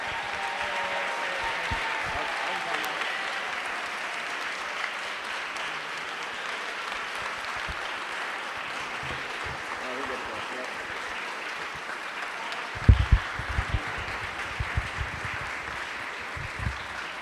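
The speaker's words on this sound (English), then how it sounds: "Everyone give a round of applause for our HCEZ team." A conference audience applauds steadily for a team at a symposium showcase, a dense even clapping that carries on for the whole stretch, with a few louder bumps near the end and no voices standing out.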